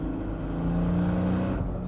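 Turbocharged BMW E30 engine idling and revving under light throttle, a steady close-up rumble with a low gurgling tone that rises slightly mid-way and holds before easing off.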